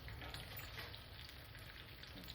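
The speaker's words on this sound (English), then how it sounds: "I'm putting it in a pan with oil." Taquitos sizzle in hot oil in a frying pan, a faint, steady, hissing crackle that runs unbroken with no voices.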